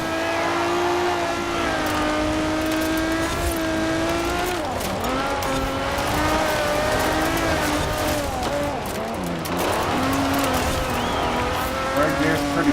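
A Quartz Regalia Type-D rally car in Forza Horizon 4 holds a loud, steady engine drone that rises and dips through gear changes and turns, with occasional tire noise, while a voice talks over it.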